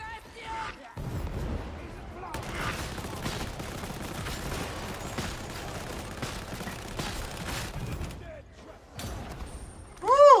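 Sniper fire and other gunshots crackle in a video game shootout, a dense burst of sharp shots and mechanical rattles lasting several seconds, followed by a louder blast at the end.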